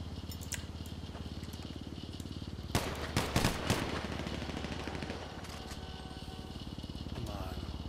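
Gunfire in GTA 5 cracks out as a cluster of four or five sharp shots in quick succession, set over a steady droning engine-like hum that runs throughout.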